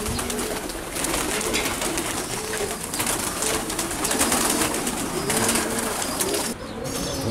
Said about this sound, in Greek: Μικρά περιστεράκια.